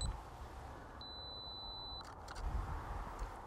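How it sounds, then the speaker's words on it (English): A camera on self-timer gives a steady high-pitched beep that holds for about a second, then the shutter fires with a few faint clicks, all against quiet outdoor background noise. "Self timer's on."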